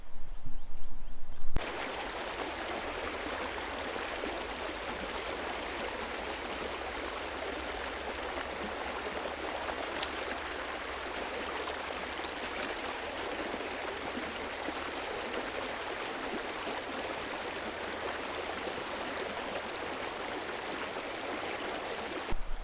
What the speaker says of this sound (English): Well, I've crossed over the creek and now I'm on the Chiquito Trail.